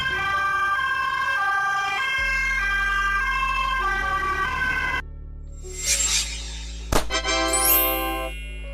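A Swedish ambulance siren, such as on a Mercedes-Benz Sprinter, Volvo XC90 or Volkswagen Crafter, sounds a loud two-tone wail that shifts partway into rapid rising yelps with a sharp burst, heard alone.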